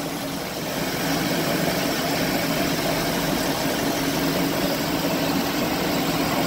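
Outboard motor on a 2009 Harris Grand Mariner 250 SEL pontoon boat runs at a steady idle, a loud, even engine drone that holds throughout with no talk over it.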